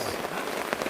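Rain falling at Pasir Reungit camping ground near Kawah Ratu, a steady close hiss of drops with a few sharper spatters, no voices.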